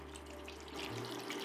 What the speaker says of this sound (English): add about 4 cups of beef broth